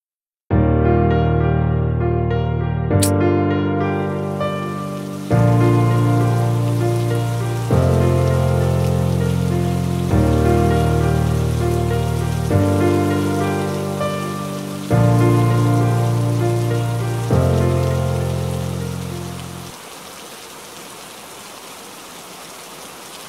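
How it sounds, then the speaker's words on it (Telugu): Steady, close rain pours outside, a dense hiss that runs unbroken under repeating loud musical chords before thinning to softer rain at the end. "బయట వర్షం పడుతుంది కదా"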